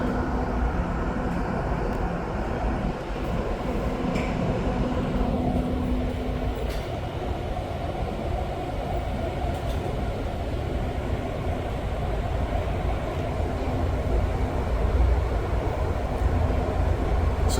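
REM light rail train, an eight-car set, running between Central and Brossard stations near the calm St. Lawrence River: a steady, continuous low rumble and rolling rail noise, fairly close and even throughout, with no talk.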